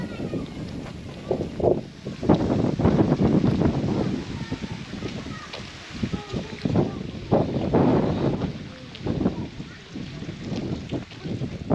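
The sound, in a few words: strong wind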